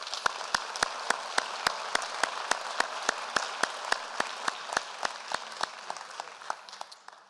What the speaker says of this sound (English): I would hope we would give them the same round of applause we gave the moderator